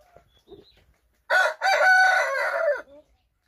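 Backyard chickens, kept through the winter, make faint scattered clucks before a rooster lets out one loud, close, drawn-out crow lasting over a second, followed by a brief soft cluck.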